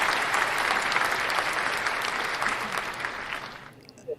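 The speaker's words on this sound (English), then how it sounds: "that applause muted your microphone." Dense applause from a crowd on a podcast, steady and loud for several seconds before fading out quickly near the end, with no talk over it.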